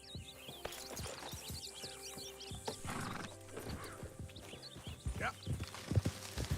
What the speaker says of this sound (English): I think we just commandeered this horse